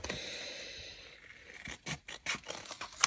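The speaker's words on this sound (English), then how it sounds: "So let's just cut these tidy," Scissors snip and scrape through paper as a flap is trimmed for a handmade junk journal, faint and close, a few short cuts in the quiet with no talking.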